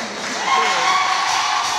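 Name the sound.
crowd applauding and ululating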